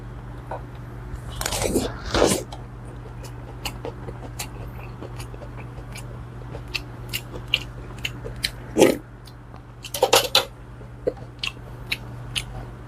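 Crunchy bites and chewing of raw beef yukhoe with crisp garlic steeped in sesame oil, close to the mic, coming in scattered bursts with a steady low hum underneath.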